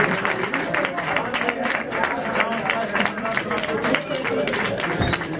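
Applause fills a medal ceremony at a 2015 European championship round in Struma, dense, sustained clapping from a crowd with a few shouts mixed in, loud and continuous throughout.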